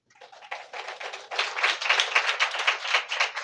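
A congregation at a church sermon breaks into applause that starts thin and builds into dense, steady clapping from many hands, fairly close and with no talk over it.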